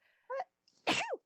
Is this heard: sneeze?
yes